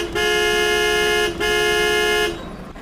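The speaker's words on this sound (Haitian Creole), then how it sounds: "Bon, klaxonner." A car horn blares in two long, steady honks separated by a brief gap, loud and close, then cuts off into quiet background.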